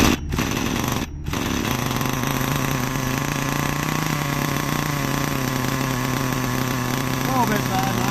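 A nitro RC car engine runs continuously with a steady high-pitched buzzing drone while its carburettor is adjusted, loud and close throughout, with two brief dropouts near the start and a voice speaking over it.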